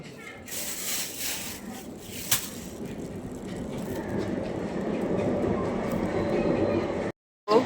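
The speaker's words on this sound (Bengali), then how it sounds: "মেট্রো যাচ্ছে" A metro train rumbles past, its roar building steadily with faint clatter, then stopping abruptly near the end.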